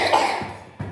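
Two short coughs from a child, close by, separated by a brief pause, with faint room hum behind.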